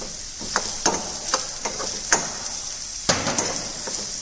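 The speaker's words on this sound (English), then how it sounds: "saute onions till it become light golden brown in color" Onions sautéing in a pan, with a constant hiss of sizzling and sharp clinks and scrapes of a utensil stirring against the metal, close and steady with no talking.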